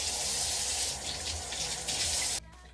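A tap runs in a steady, full gushing stream, close and fairly loud, then shuts off suddenly near the end, with no talking over it.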